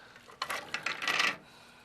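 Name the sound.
cut potatoes dropped into soup pot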